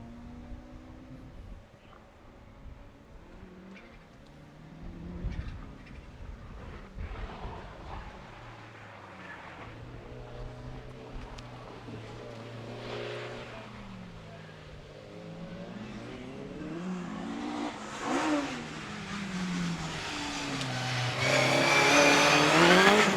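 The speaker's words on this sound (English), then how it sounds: "There's Michael Pickles in that very neat little blue Micra rather, goes around that right hand corner and away" A small blue Nissan Micra in a time trial takes a right-hand corner and pulls away, its engine revving and rising in pitch through the gears, growing louder toward the end.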